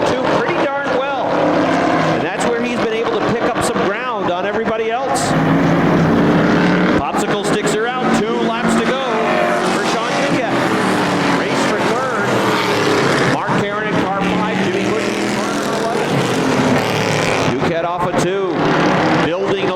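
Dirt track race cars roar around the oval at Airborne Speedway in Plattsburgh, New York, with engines revving and surging through the turns as a commentator talks over the racing throughout.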